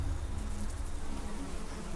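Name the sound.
wasps buzzing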